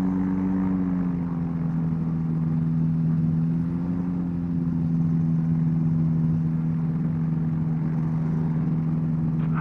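Ultralight aircraft engine during a short field takeoff from an island, a steady, loud droning hum with a slight pitch drift, running continuously and alone with no talk.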